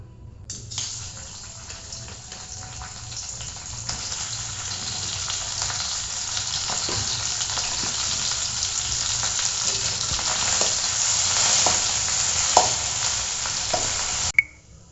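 Boiled potatoes with spices are stirred in mustard oil in a wok, giving a continuous soft sizzle with scraping and occasional spoon knocks against the pan, steady and close for about fourteen seconds, ending with a sharp clink.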